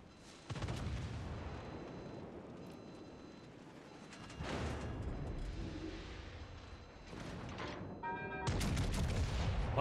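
Heavy bombing blasts and rapid gunfire in the combat game Brawling Vanguard, loud booming bursts arriving in waves with a dense crackle of shots between them and no talk.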